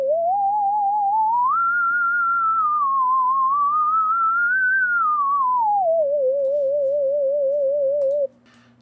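Synthesized theremin built in MetaSounds, a single smooth sliding tone with steady wobbling vibrato that glides up, hovers, then settles lower over a faint low hum, heard alone and loud before cutting off abruptly.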